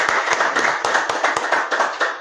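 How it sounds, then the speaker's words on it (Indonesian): A podcast studio audience claps, a brisk run of close, distinct hand claps in an uneven rhythm with a few people joining in. "kita beri tepuk tangan Bang Abi, RS Production."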